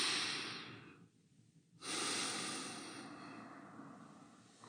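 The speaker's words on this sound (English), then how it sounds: "Have a deep breath at 4." A slow, deep breath in and out, close and soft in a quiet room, with a brief pause between the inhale and exhale and no talking.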